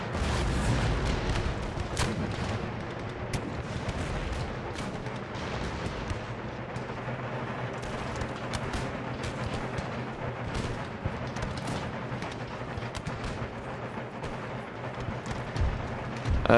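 Artillery in Empire: Total War fires ball shot at Cossack infantry, a dense continuous rumble of booming cannon and musket fire on a battlefield, loud and sustained with no voices.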